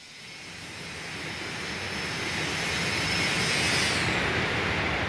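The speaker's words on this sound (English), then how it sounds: "Here comes a flyby." Simulated MD80 jet flyby from a flight simulator FMOD sound pack, a broad engine roar that swells louder as the plane nears and passes, with no talk.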